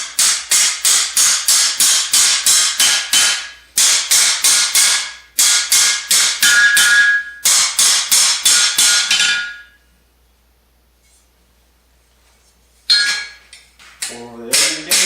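Rapid bursts of hammer strikes while mounting a tool organizer, sharp metallic taps in quick runs separated by short pauses, then silence and a few final knocks, loud and close.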